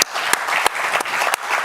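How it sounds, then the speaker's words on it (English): Audience applause for the speakers at a panel dialogue on war legacies and peace in Vietnam, Laos and Cambodia, a steady, full burst of clapping with no talking over it. "Please give our speakers a big round of applause."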